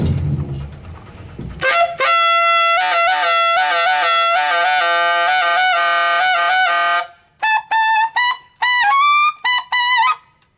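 A tenor saxophone plays a harsh, split multiphonic on G natural with several pitches sounding at once, sustained, then broken into short wavering bursts.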